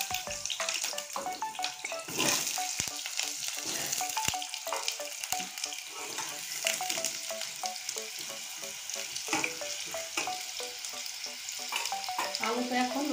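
Cut potatoes fry in hot oil in a pan, with bursts of sharp crackling and spitting over a steady sizzle, heard up close with no one talking.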